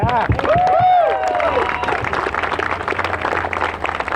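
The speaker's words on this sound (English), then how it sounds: "Another round of applause." A crowd at a Back the Blue and Military rally applauds. The clapping swells loudly at first, with a brief whistling tone riding over it, then thins into scattered, softer claps.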